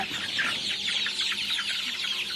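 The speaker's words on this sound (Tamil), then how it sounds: "இப்போ இந்த லைனில் இருக்கிறது டூ மந்த்ஸ் சிக்ஸுங்க" Two-month-old Kathikal Peruvidai chicken chicks cheep and cluck in a steady overlapping chorus, a flock heard close and continuous with no talk.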